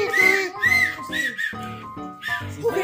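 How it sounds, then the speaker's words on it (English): A child's toy whistle blown in several short, shrill, wavering toots with brief gaps, loud and close at a birthday party. "That's a whistle."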